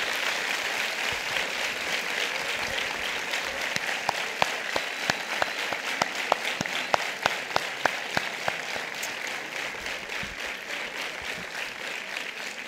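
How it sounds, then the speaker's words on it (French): A crowd applauds warmly and steadily, dense clapping throughout with a few sharper individual claps standing out in the middle. "des applaudissements chaleureux pour remercier nos intervenants qui se sont succédés"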